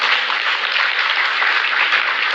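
Sustained audience applause fills the room at a political address to Kenyans abroad, a dense, even wash of clapping from a large crowd with no voices on top.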